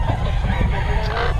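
A Black McRae gamefowl chicken crows steadily and loudly close by, its voice layered with other clucking and crowing birds throughout.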